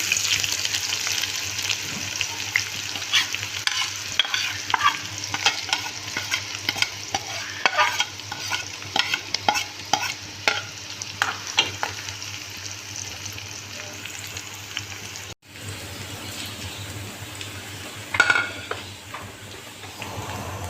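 Tempering spices go into frying dal in a pan and get stirred, with continuous sizzling and a run of scraping spoon strokes, a brief pause, then more stirring near and clear without talk.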